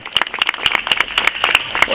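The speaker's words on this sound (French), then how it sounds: "Vous pouvez les applaudir, ils font un travail formidable." A crowd at the inauguration of a dog park applauds animal shelter volunteers, with brisk, bright clapping from many hands close by, loud and continuous for the whole stretch.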